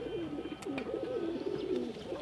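Pigeons coo in soft, repeated rolling phrases, close by and steady across the whole stretch over a low background hum.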